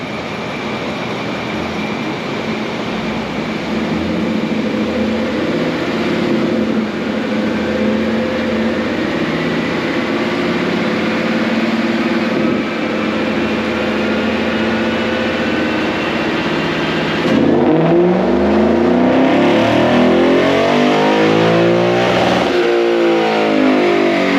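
A Lexus GS-F with bolt-on modifications runs on a dyno, its engine roaring continuously and loudly as revs climb steadily, then surging higher through a gear change near the end, close and alone without talk.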